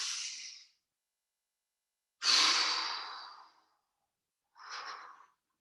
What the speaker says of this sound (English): Big inhale. And exhale.